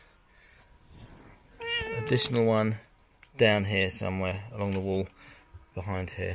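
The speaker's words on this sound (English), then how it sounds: "that's the cat." A house cat meows indoors during upstairs electrical socket work, with a few drawn-out calls mixed among close, clear talking that runs through most of the moment.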